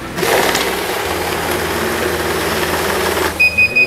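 A banknote-counting machine with counterfeit detection whirs and rattles up close for about three seconds, then stops. Several short electronic beeps follow at the end.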